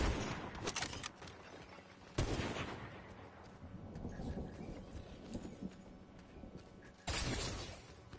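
Sniper gunfire from the left in a shooter game: a few sharp, loud cracks spaced seconds apart, with the first near the start, another around two seconds and a last one near seven seconds, amid a busy rumbling background.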